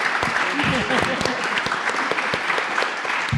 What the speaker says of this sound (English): Can we please give a big round of applause to our candidates?